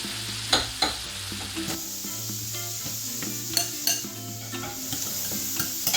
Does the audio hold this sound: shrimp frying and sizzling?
yes